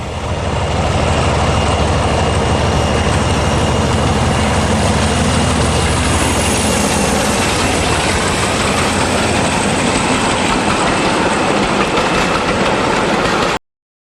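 Class 47 No. 47727 and Class 50 No. 50042 diesel locomotives work together on a climb on the Bodmin line, producing a loud, sustained, dense engine roar that continues without a break until it cuts off abruptly.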